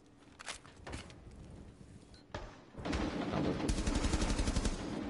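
Gunfire in a Counter-Strike style match: a few scattered shots early, then a burst of sustained rapid fire at close range fills the last couple of seconds.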